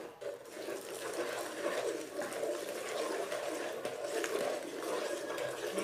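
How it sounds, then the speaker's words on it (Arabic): Hot milk poured into a mixture while it is stirred for a banana cake: a steady, close liquid rush with soft mixing sounds running throughout. "دوكا ندير نص من الحليب اللي سخنته راهو سخون ونخلط في نفس الوقت."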